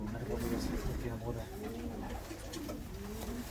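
Pigeons coo in a pigeon loft, repeated soft throaty rolling calls from several birds at close range, with a voice talking faintly at times under the cooing.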